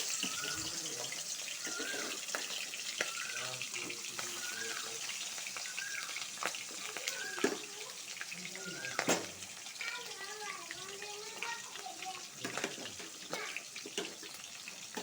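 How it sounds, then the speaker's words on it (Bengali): Spices frying in hot oil in a wok for a curd and katla fish curry, giving a steady, fairly quiet crackling hiss throughout while someone talks over it. "কড়াইটা গরম হয়েছে তেল দিব তেলটা গরম হয়েছে মশলা ভাজিয়ে নিব"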